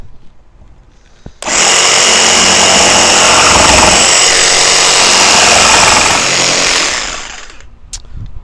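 A power tool cuts through a wooden board, starting abruptly with a loud, steady whining buzz that holds for about five seconds before winding down.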